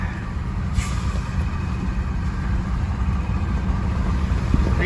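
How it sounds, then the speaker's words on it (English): Idling diesel locomotive engines on a waiting coal train at Kenova, West Virginia, give a steady low rumble throughout, with a brief hiss early on, heard alone without talk. "These engines down here are running. That's the engines that are on that coal train"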